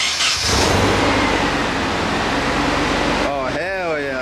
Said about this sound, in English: David's gonna go inside and start the car. Let's see how it sounds.